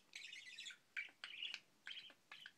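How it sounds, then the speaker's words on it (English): A budgie chirps excitedly in quick bright bursts, five clustered phrases of high tweets and trills separated by short pauses, close and fairly clear. "Budgie gone bonkers."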